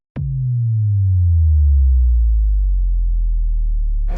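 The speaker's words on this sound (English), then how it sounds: "And this would be the bass boom." A deep cinematic bass boom for a motocross commercial, a loud sub-heavy tone that starts abruptly and sustains for about four seconds, slowly gliding downward as it fades, with no other sounds.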